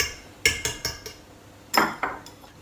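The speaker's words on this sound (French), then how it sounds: "je mélange les épinards dans ma préparation" Spatula clinking against a bowl while spinach is folded into a polenta batter with grated cheese: a few sharp close scrapes and taps in quick succession, a short pause, then two more, with no talking.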